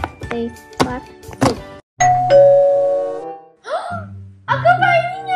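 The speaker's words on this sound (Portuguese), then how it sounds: "A campainha!" A two-tone doorbell chime rings out clearly, with children's voices and playful cries around it; the ding-dong tones sit near and loud in a home setting.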